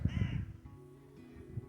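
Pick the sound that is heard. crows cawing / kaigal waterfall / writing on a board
crows cawing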